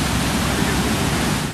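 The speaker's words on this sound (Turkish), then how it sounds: "Artıyor, artıyor, dere artıyor." A rain-swollen stream in Turkey's eastern Black Sea region roars during heavy flooding, giving a loud, dense, unbroken rush of water close by.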